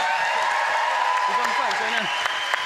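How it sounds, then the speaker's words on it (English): A radio studio audience applauds gold medalist Chris Hoy, a steady moderate patter of clapping under a voice talking through the middle of it. "Round of applause for him, please."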